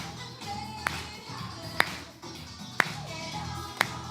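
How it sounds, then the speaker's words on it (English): A congregation at a Sunday church service claps along in unison, with sharp, evenly spaced claps about once per second over a faint, roomy background. "come on, clap with me."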